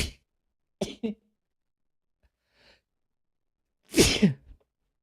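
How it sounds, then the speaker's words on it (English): One person sneezes sharply and close by after a couple of short breathy catches, and the room is otherwise quiet with no speech. "Sorry, I sneezed."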